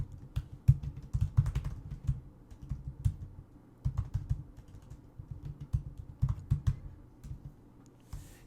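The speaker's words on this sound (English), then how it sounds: "So I will type in something" Steady typing on a computer keyboard, close and clear, with irregular runs of key clicks and short pauses continuing throughout, with no voices over it.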